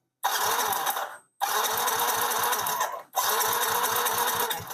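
A Yamaha Mio GT scooter with its spark plug pulled for an ignition check, cranked by the electric starter in three loud, close bursts of steady rapid chugging separated by brief pauses, with no talk.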